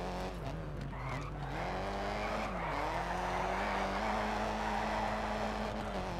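Rally car engine droning loudly and steadily in Colin McRae Dirt 2, with a brief handbrake skid and tire scrub as it turns through a corner, no voices.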